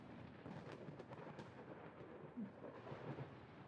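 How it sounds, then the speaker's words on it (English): Faint, distant thunder rumbles low and rolling, with a couple of slightly louder swells and no clear patter of rain. "Thunderstorm sounds with no rain."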